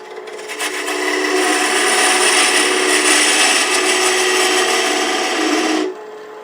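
A wooden tenon spinning on a lathe as it is tapered, giving a steady, loud rasping cut with a faint tonal whine that runs for several seconds and then stops abruptly.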